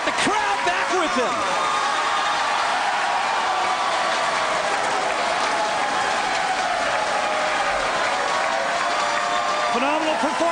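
A bowling crowd at a PBA tournament in Spartanburg bursts into loud, sustained applause and cheering that fills the whole stretch, with an announcer talking over it throughout.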